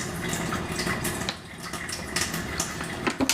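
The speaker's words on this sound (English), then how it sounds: "So then I'm going to add another half cup of water." Half a cup of water is poured into pierogi dough, giving a steady, close splashing trickle with a few brighter spatters toward the end. No one speaks.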